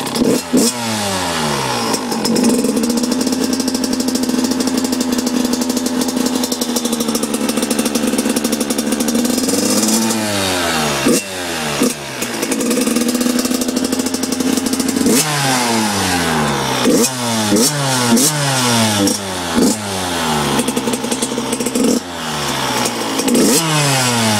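A 2002 Suzuki RM85 two-stroke dirt bike engine runs loud and close, idling with a buzzy rattle and repeatedly revving up and dropping back in sharp blips throughout.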